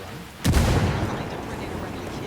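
A frag grenade in Ghost Recon detonates with a single loud, close boom, then a rumbling tail that slowly fades under low background noise.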